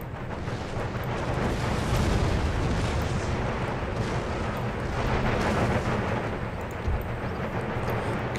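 Cannon and artillery fire in the video game Empire Total War sets up a dense, continuous rumble of booms and distant blasts, with no break and no talk over it.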